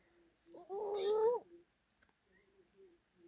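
A cat gives a single loud, drawn-out meow up close, then only faint scattered sounds follow.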